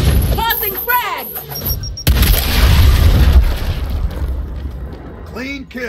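A frag grenade explodes in the video game Gears Tactics, a sudden loud boom that rolls into a long rumbling roar. Brief voices are heard just before it and near its end.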